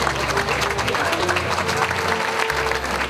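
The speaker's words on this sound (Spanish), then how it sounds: "Por eso yo creo que se merece un fuerte aplauso." Applause from an audience at a municipal mural dedication ceremony in San Salvador, a dense, steady clapping that runs the full three seconds at close range, with some background murmur.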